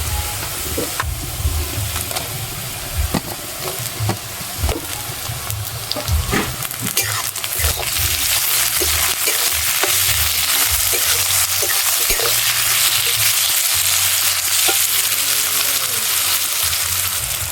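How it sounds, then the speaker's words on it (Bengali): Chopped tomatoes frying with browned onions in a pan, a loud steady sizzle with intermittent clinks and scrapes of stirring, the hiss thickening and growing more constant after the first few seconds. "কুচনো টমেটো দিয়ে এখানে 2 মিনিট আমি ভেজে নিয়েছি"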